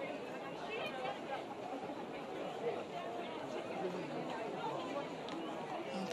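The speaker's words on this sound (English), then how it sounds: "You can perhaps hear the crowd very unhappy" Stadium crowd at an A-League elimination final between Melbourne Victory and Central Coast, a dense, steady roar of displeased chatter and murmuring filling the ground after a late, heavy challenge, with no single voice standing out.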